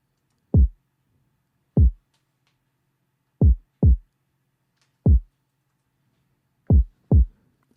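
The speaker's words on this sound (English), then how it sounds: "I started the drums with just a kick" A deep, punchy kick drum hitting in a sparse, uneven pattern, single thumps and quick doubles separated by silence, sounding like a heartbeat.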